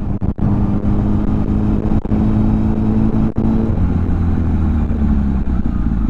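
A motorcycle riding over speed bumps on a road, with a loud steady engine rumble close by and a few sharp dips where the wheels hit each bump, no talking.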